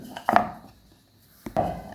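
A rolling pin pressing stiff pani puri dough, two distinct knocking thumps against the board with a short pause between, close and clear with no talk.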